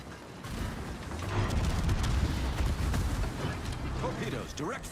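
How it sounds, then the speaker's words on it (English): A shore battery shells a ship in a naval video game, producing a rumbling barrage of deep booms and mechanical clatter under a voice talking. "That's a shore shooting at me from range."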